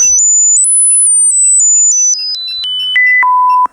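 A speaker driven by the function generator of a FNIRSI 2C23T handheld oscilloscope emits a loud pure tone that steps through a series of pitches, climbing briefly and then dropping steadily lower, each step lasting a fraction of a second.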